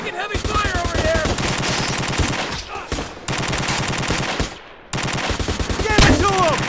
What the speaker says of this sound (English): You're taking heavy fire over here!